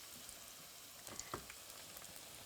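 Pakora frying in hot oil, a soft continuous sizzle with faint crackling pops throughout, quiet and close with no voices.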